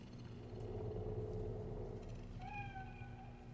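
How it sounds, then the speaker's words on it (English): A cat meows a few drawn-out times over a low steady rumble and hum, fairly quiet and close, in the video game Cyberpunk 2077. "Fine-looking feline."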